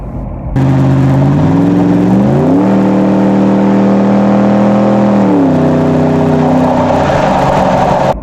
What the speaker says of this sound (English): let's go back and hear that last acceleration from what it sounded like in the back.